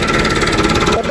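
A tractor engine, just started in a field for planting maize with a new planter, runs with a close, steady, throbbing chug.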